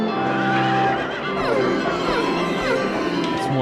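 Horses in Silent Hill 3 give shrill, wavering neighs and whinnies, several overlapping calls close by over a low background.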